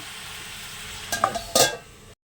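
Food cooking in a pan gets a brief stir, two quick scraping strokes over a low background hiss, close by, before the sound cuts off.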